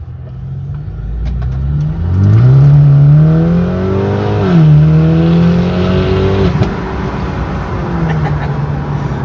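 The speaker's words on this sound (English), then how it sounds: "So that's just a little bit of overrun that you want from the exhaust sound." A BMW G20 330e engine with catless downpipe, catback exhaust and Stage 1 tune revs up and falls off throttle on the highway, its exhaust crackling and burbling on the overrun, steady road noise throughout.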